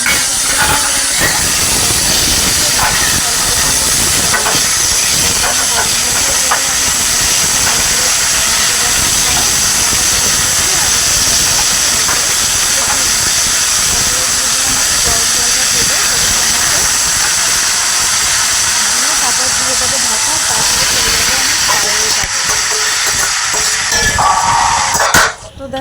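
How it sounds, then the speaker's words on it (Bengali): Hot water poured into a curry cooking on a gas stove, giving a loud, constant steamy hiss that runs without a break for about twenty-five seconds and cuts off at the end. "গরম জলটা ঢেলে রাখবো।"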